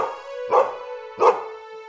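An injured dog in a village gives two loud, whining barks about a second apart, close and strained, over a faint steady tone.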